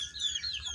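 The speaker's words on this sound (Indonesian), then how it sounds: "ada suara ayam ya" A chicken clucks and chirps faintly in the background in a brief, quiet burst of a few short calls, with no talking.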